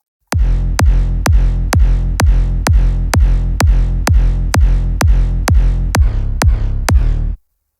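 Fourteen punchy, heavy layered big room kick drums hit in an even four-on-the-floor pulse, each with a booming sub tail, then stop abruptly.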